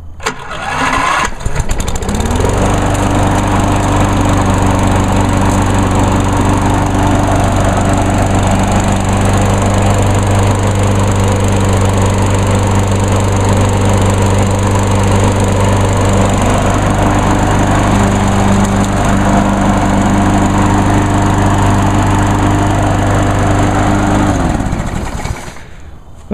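A petrol lawn mower with a Briggs & Stratton engine starts and runs steadily at a loud, even drone, holding constant for about twenty seconds before cutting out.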